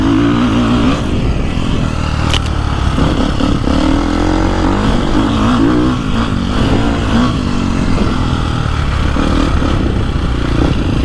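A 2024 Beta 450RX dirt bike engine runs close by with a steady, loud thrum throughout, with small throttle rises and a brief sharp clatter near the start, and no talking.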